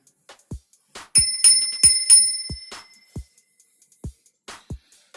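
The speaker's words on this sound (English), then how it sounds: "The bell is fixed and ready." An internal clapper bicycle bell rings in a few bright, sustained metallic dings close by, each fading slowly, among soft ticks and light handling clicks, with no talking.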